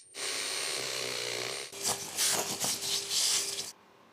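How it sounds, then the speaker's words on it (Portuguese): A 7 mm bit drilling carefully into a wooden piece: a steady whirring drill tone for over a second, then rougher grinding and rubbing bursts as the bit bites into the wood before it stops abruptly. "Agora vou passar para uma broca de 7 milímetros e fazer isso com muito cuidado."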